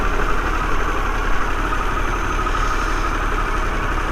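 A Harley-Davidson Pan America motorcycle idles at a traffic light, a steady, close engine rumble that holds even throughout with no talking.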